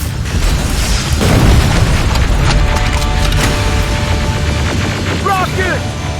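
A loud rocket explosion in Terminator Resistance Enhanced Edition booms with a crackling, splintering burst, followed by lingering debris and battle noise, with brief voices over it.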